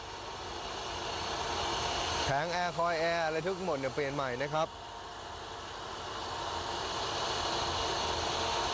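A steady, low idle from a Mercedes-Benz 5,000cc V8 engine hums throughout, smooth and quiet, while someone talks briefly over it partway through.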